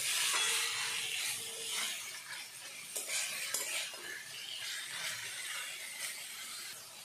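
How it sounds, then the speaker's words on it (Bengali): Boiled banana flower (mocha) being stirred in a pan with a metal spoon, steady scraping and gentle sizzle with occasional clinks against the pan, close and clear. "দিয়ে ভালো করে নাড়তে হবে।"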